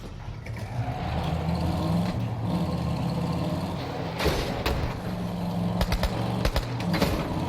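Vehicle driving in Borderlands 3, running over bandits and skags: a steady low engine drone with continuous rumble throughout, punctuated by a few sharp impact bursts near the end, with no talking.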